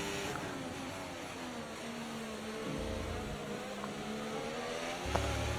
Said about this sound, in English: As we pass Oscar Piastri into the famous little hairpin